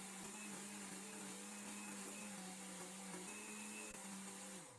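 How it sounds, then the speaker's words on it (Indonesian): A kitchen blender whirs steadily, blending sweet corn with full cream milk for a corn pudding. The motor drones continuously at an even pitch for several seconds with no speech. "ini jagungnya mau saya blender dengan 200 ml susu full cream"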